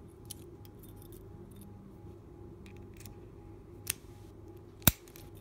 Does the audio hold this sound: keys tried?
yes